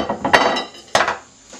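A spoon scrapes seeds out of a halved butternut squash in two quick, close strokes, each a short wet scrape with a light clink, separated by a pause.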